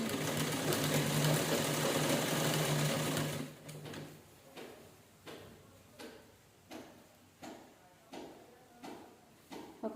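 A sewing machine stitches a cloth bag, first running in a continuous fast whirring burst, then slowing into a series of short rhythmic pulses spaced about every half second, fairly quiet and close.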